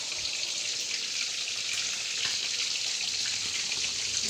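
Fish fries in hot oil with a steady, bright sizzle and crackle, moderately close and continuous throughout with no voices.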